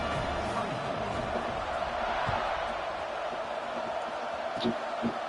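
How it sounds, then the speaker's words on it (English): Stadium crowd in a college football video game, steady broad crowd roar cheering continuously at moderate loudness, with a few faint thuds near the end. "this crowd is feeling themselves after that last drive"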